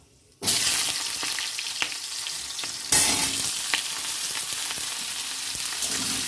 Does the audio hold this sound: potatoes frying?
yes